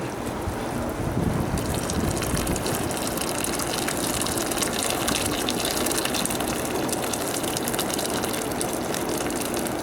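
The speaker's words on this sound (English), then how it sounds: "Okay, time to add the water." Water gushes steadily and loudly into a cooking pot for egg curry, a continuous rushing pour that fills the whole stretch without pause.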